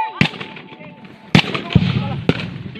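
Sharp gunfire cracks during a firefight between NPA rebels and military troops, three loud separate shots over a noisy, rustling outdoor background with no clear voices.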